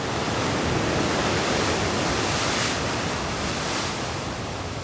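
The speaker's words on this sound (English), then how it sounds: "As you can see right now in the morning, the waves are super high." High morning surf crashes at the Swakopmund pier in Namibia, a loud, continuous roar of breaking waves filling the air, with faint swells in intensity and wind rushing across the microphone.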